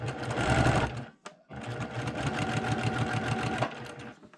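Sewing machine stitching quilt fabric for a Sunbonnet Sue block, a fast steady mechanical whir with rapid needle pulses, pausing briefly near the middle before running on loud and close.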